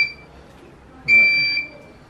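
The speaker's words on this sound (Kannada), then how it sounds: "ಏನಿದು ಬೀಪ್ ಸೌಂಡ್ ಅಂತ ನೋಡ್ತಾ ಇದ್ದೀರಾ? ಪ್ಯೂರಿಫಿಕೇಶನ್ ಸೌಂಡ್ ಅದು, ಒಳಗಡೆ ಫಿಲ್ಟರ್ ಹಾಳಾಗಿದೆ, ರೀಪ್ಲೇಸ್ ಮಾಡಿ ಅಂತ ಅದು ಸೌಂಡ್ ಬರ್ತಾ ಇತ್ತು" A water purifier emits two sharp, high electronic beeps warning that its filter is faulty and needs replacing: a short one at the start, then a longer one after a quiet pause.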